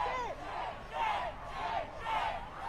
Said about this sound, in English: I'm trying to understand what this crowd is shouting right now